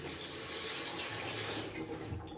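Water gushes steadily from newly connected taps over a basin plumbed with copper pipe, a continuous broadband splashing rush that holds loud and close for the whole stretch, with no voices.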